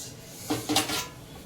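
A couple of quick metallic clanks as a pressure cooker is set down on a metal pot filled with sand, close and brief, over a quiet background hiss.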